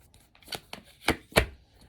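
Tarot cards being shuffled by hand, giving a few sharp papery slaps and riffles spaced irregularly across a short quiet stretch, close to the mic with no talk.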